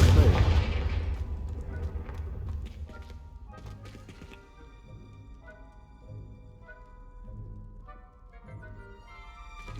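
A Confringo fire spell bursting in Hogwarts Legacy, a heavy booming blast up front that rolls off into a rumbling decay, followed by quieter low thuds and a lingering game ambience with tonal music.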